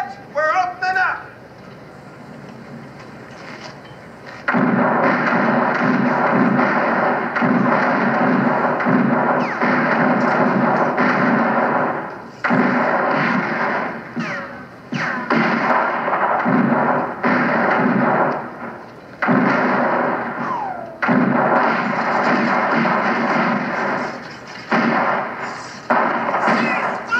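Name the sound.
gunfire opening up in Civil War battle reenactment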